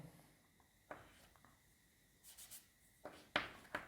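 Marker or chalk scratches on a board during a maths lecture, heard as quiet, intermittent short strokes and scrapes with pauses between them and no speech.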